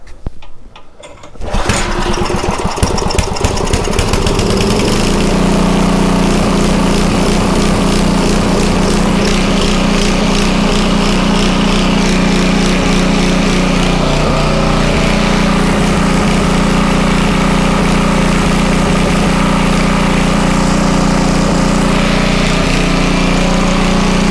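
A Homelite 2500 watt portable generator with a starting fault fires up after a brief pull and then runs on steadily, a loud, close, continuous engine drone that holds for over twenty seconds with no talking.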